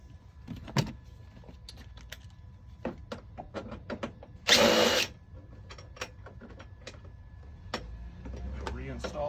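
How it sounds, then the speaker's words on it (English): Power driver backing out a T30 screw: one short whirring burst of about half a second amid scattered clicks, taps and handling noises, close by. "Okay, let me take this screw out."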